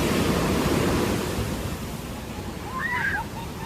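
Ocean waves wash onto Kuta Beach in Bali at high tide, a broad rushing surge that is loudest at first and then eases into steady surf, with a brief voice calling out near the end.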